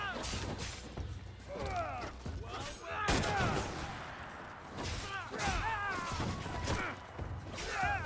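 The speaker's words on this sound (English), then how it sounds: "Why is everyone shooting me, man?" Gunfire aimed at the player in Assassin's Creed Shadows, rapid volleys of shots and sharp impacts in repeated bursts over battle noise, with a voice talking at times.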